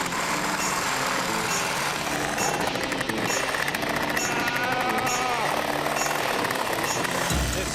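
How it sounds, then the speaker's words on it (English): A Sawzall reciprocating saw runs with a loud, rapid rattling buzz and harsh metallic chatter, close by, stuttering through cuts with brief surges, while voices talk over it. "My Sawzall."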